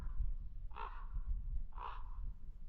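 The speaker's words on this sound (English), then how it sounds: "Noisy crows." Crows give two distinct loud caws about a second apart on a snowy Scottish mountainside, with steady wind rumble underneath.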